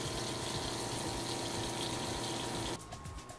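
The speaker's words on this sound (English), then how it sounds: "Here we have hot and cold running water." Water runs from the tap of a mobile cooking cart, a steady close gushing rush that stops abruptly near the end and leaves a faint residual hiss.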